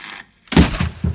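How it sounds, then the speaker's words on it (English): An Alexa smart speaker being smashed: after a brief hush comes a sharp, loud crunching impact, followed by two further heavy thuds at close range. "I was just destroying my Alexa because she never, ever, ever listens to me."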